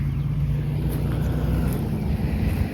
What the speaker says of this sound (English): You can hear some traffic going by.